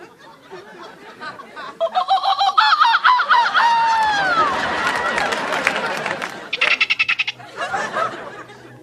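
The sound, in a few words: person imitating bird calls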